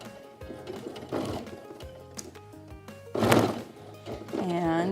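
A sewing machine stitches down along the piping of a pillow cover, its motor whirring in uneven bursts with a few soft thunks, while someone talks over it.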